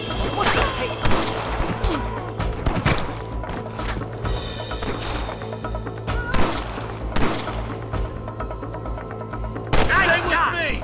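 Gunfire in Red Dead Redemption, a Western shootout with rustlers: scattered loud revolver and rifle shots cracking irregularly, some close and some farther off, over music, with voices shouting.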